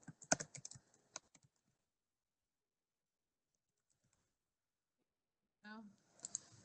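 A burst of quick key clicks on a computer keyboard while information is entered into an online school registration form, followed by a quiet pause, then a brief spoken phrase and a few more clicks.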